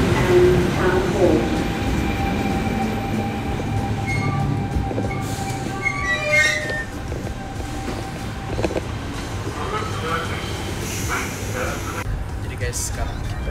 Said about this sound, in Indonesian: Sekarang kita sudah di dalam train menuju Town Hall